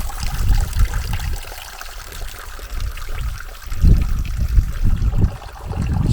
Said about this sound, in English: So this is Yellow Slacks Brook, just about flowing.